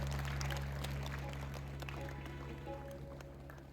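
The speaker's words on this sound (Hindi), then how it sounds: "एक बार ताली बजा करके सुदामा जी का" Audience at a Shrimad Bhagwat Katha clapping together, a continuous patter of many hands over a steady hum, fading slightly toward the end.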